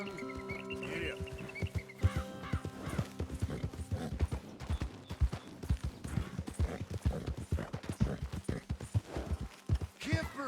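Horse hooves clip-clop in a steady, close rhythm throughout the Red Dead Redemption 2 video game, with faint tonal background sound and possible fowl clucking nearby.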